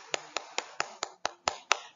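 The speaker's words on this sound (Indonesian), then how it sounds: "Benar sekali, tepuk tangan." Eight crisp hand claps in an even, brisk rhythm, close by, each a sharp snap with a short decay and quiet gaps between.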